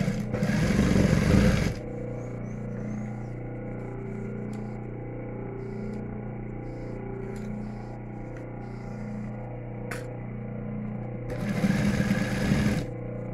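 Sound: sewing machine stitching elastic on a fabric face mask

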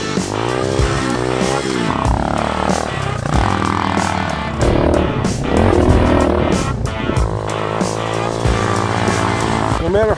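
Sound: cheap enduro motorcycle ridden at a motorsports track

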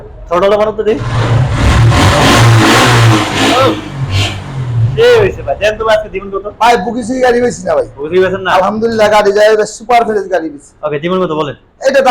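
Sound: Suzuki Gixxer motorcycle engine starting and revving

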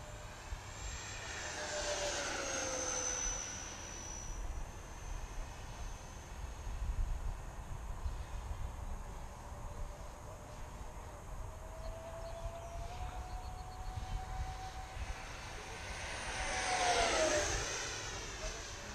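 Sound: E-flite SU-30 RC model jet flying at full throttle

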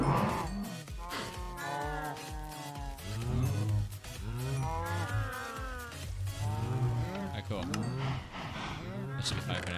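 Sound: cows mooing in a video game

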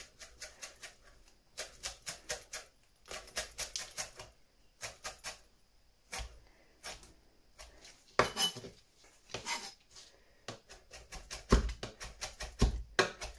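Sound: knife finely chopping mint on a board

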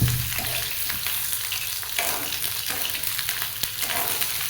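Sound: frying radish and chillies for pickle

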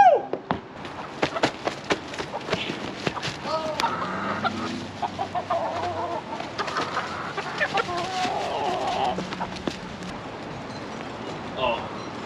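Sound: chickens clucking while being caught

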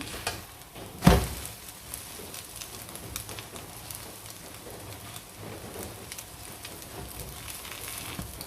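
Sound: chicken egg frying, sizzling

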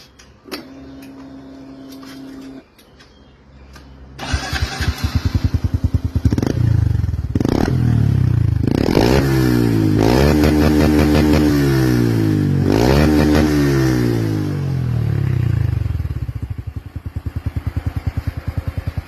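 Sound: motorcycle exhaust revving

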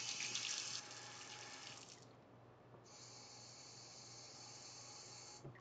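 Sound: tap water running into a small dish

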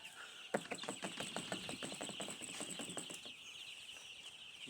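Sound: chicks in poultry farm

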